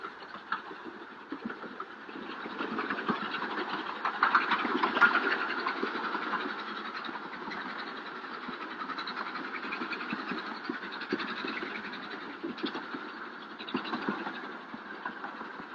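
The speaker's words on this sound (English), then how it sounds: "the train winds its way up through the mountains" A train climbs through mountains near Darjeeling, rumbling and clattering at a steady pace, its engine droning with rhythmic rail clicks, moderately loud and slightly muffled.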